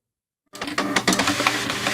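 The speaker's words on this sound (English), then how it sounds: "Specifically, it is a dot matrix printer, but I will accept printer." A dot matrix printer starts after half a second of silence, then prints loudly and continuously with a dense, rapid buzzing rattle.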